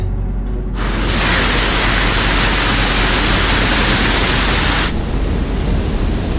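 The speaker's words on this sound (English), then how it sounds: "Okay, here comes the big spray." A powerful water spray strikes the big windows of a Ford Mustang, heard from inside the cabin as a loud, bright, steady hiss that starts abruptly, holds for about four seconds, then cuts back to a duller rush.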